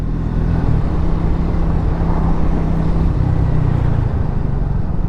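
A Triumph Speed 400 motorcycle rides along while braking, giving a loud, steady engine and road roar with a low tone that slowly drops, and no talking.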